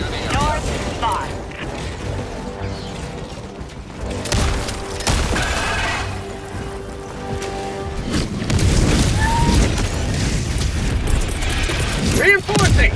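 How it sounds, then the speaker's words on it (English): Orbital bombardment explosions in the game Helldivers 2, a run of deep rumbling booms and blasts with mechanical clanks and rattles, rolling and overlapping, heard with a voice speaking over them. "Firing orbital bombs."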